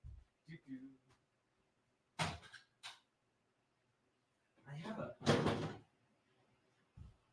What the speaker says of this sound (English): This door is open and it's bugging me.